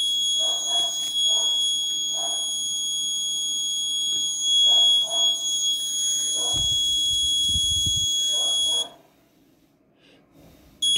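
Buzzer alarm from an Arduino ESP8266 health monitor sounding as a steady high electronic tone for about nine seconds before cutting off, close up, with soft speech-like murmurs and a brief low thump in the background.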